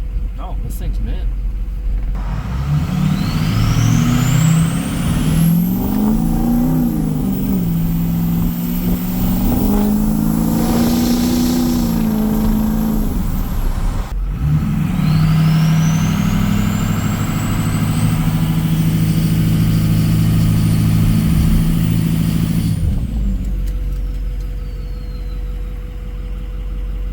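An unreliable truck's engine revs up and settles back to idle, rising whines sweeping up and fading over a steady mid-pitched drone, close and loud throughout.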